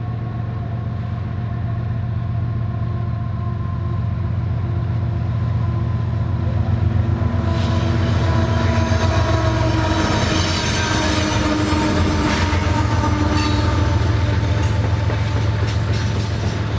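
A long unit coal train rolls past on a Minnesota line near the Mississippi, starting with a deep steady rumble and turning into loud, close wheel squeal and clattering cars as the wagons go by.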